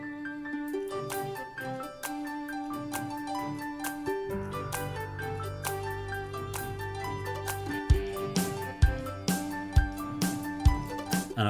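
The title theme of the Swords and Sandals game is played on an electronic keyboard, a steady melody of clear sustained notes over a bass line, with sharper percussive hits toward the end and no talking.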